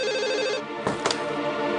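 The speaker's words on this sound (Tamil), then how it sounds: "சந்தியா தான் ஃபோன் பண்றாங்கன்னு நினைக்கிறேன்." A mobile phone plays a steady, melodic electronic ringtone at moderate volume indoors. A couple of short clicks or knocks sound partway through.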